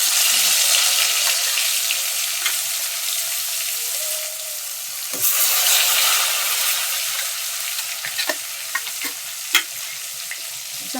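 Rohu fish frying in oil and turmeric in a kadhai gives a steady, close, continuous sizzle with a few sharp pops and spits toward the end, and no talking.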